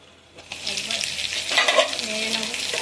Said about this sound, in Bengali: এবার আমি একটু নেড়ে নেব কচুটা।